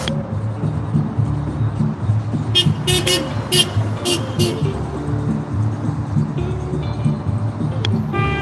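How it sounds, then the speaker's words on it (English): Car horns sound at an I.C.E. protest in Portland, Oregon, several honks rising above steady traffic and street noise, with people talking nearby. "Got honks on the ambulance."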